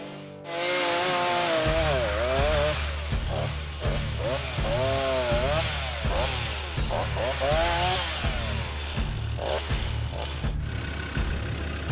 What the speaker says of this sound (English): only 1 person brings a chainsaw